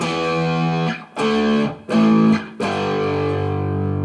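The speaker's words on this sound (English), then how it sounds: "A nice kind of not over-the-top distortion." An electric guitar plays sustained chords with mild distortion, four strummed hits ringing out one after another, loud and close.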